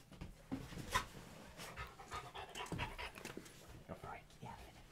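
A dog pants in quick rhythmic bursts close by at home on a couch, with people talking over it and a few louder breathy peaks.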